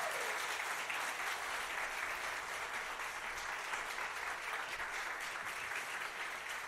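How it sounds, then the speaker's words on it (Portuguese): Steady applause from a church congregation, broad and sustained for the full length with no voices over it, loud and close throughout. "você aplaudisse a vida delas"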